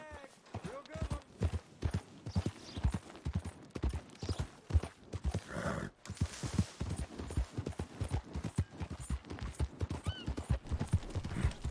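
Horse hooves clip-clop steadily in Red Dead Redemption 2, a close, even stream of hoofbeats running throughout, with a brief whinny-like sound midway and talk over the top.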